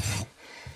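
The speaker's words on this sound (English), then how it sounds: "from the quarters to the toes, you're going to work the rasp down like this." A rasp files a barefoot horse's hoof from quarters toward the toe: two short, close rough scraping strokes separated by a brief pause, with no voices.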